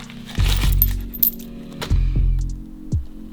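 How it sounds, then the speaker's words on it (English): A box of metal fixings for a VW T5/T6 handbrake lowering kit (nuts, bolts, washers and a spacer) is shaken, giving a few clinking, jangling bursts of loose hardware, fairly close and loud with short pauses between. "we have the box of fixings. And in here we have nuts, bolts and washers and a spacer for the handbrake cable."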